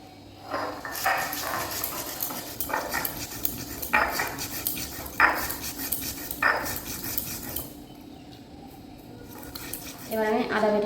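Whole cumin, ginger, garlic, green chilli and chopped onion being ground by hand, with a steady series of rhythmic scraping strokes about a second apart while a person talks over them.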